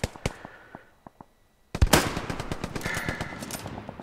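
Gunfire in the World War II shooter Hell Let Loose: a few scattered shots, then a loud close burst followed by rapid machine-gun rattling that continues to the end.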